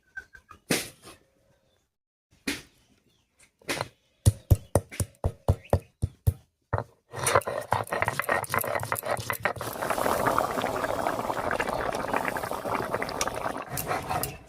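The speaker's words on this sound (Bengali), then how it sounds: "ঝোলটা ফুটতে থাকুক" A papaya curry broth with spices comes to a boil after scattered taps and clatters at the pot, building into a continuous bubbling, rolling simmer that grows fuller and steadier toward the end.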